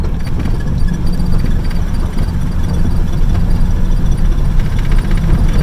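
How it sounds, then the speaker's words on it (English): Car with a three-on-the-tree column-shift manual transmission, its engine a loud, steady low rumble while the clutch is pushed in and the driver shifts into second gear, with no clear break in the drone. "you push in your clutch and roll it up into second gear"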